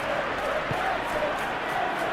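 Steady crowd murmur and ambient cheering from a simulated Premier League football video game match featuring Manchester United, a continuous wash of stadium noise with commentary speech over it.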